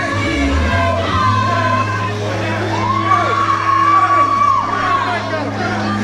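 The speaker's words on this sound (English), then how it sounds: "you can tell by the screams from his cheering section" Fans at a wrestling show scream and cheer, a dense crowd roar with yells and whoops rising and falling over a steady low rumble, with voices shouting through it throughout.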